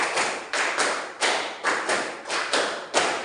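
A classroom group plays the tepuk kreasi rhythm game, with about eight sharp unison claps in a lively pattern, some quick pairs, all loud and close with no voices.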